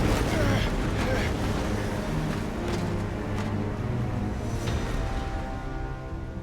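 Wind buffets steadily across an outdoor scene in the video game Final Fantasy XVI, a continuous rushing roar that fills the whole stretch, with a faint voice underneath.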